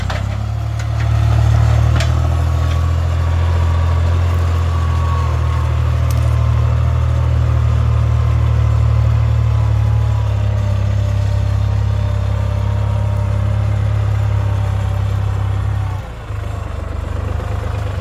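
A New Holland T480 S tractor engine idles with a steady, loud low rumble, running continuously before a brief dip near the end.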